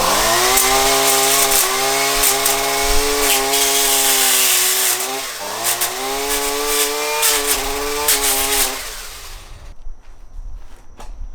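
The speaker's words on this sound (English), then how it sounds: "Next up, chainsaw." A chainsaw runs loud and close for about nine seconds, its engine note dipping and rising a few times. It then cuts out, leaving faint background noise.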